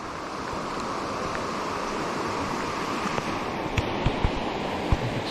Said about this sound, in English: this is Big Pine Creek.